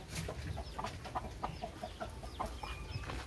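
Chicks and free-ranging chickens cluck in short repeated bursts over a steady outdoor background, several birds close by, no talking.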